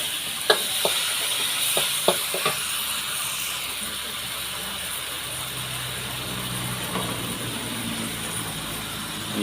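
Thai basil and yard-long beans hit a hot wok for a stir-fry with fish or oyster sauce, giving a steady loud sizzle and hiss, with a few early clicks and scrapes of a utensil stirring.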